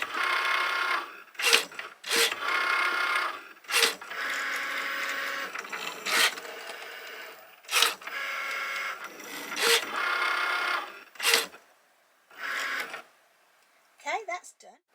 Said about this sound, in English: It's now detecting the blade over at the right hand side of the machine and just checking we put the right one in. Now it's going to do its perforation.